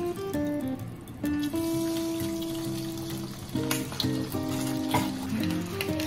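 Water poured into a hot oiled pan of browned gyoza sets off a steady close sizzle and bubbling hiss that continues throughout, with no voices.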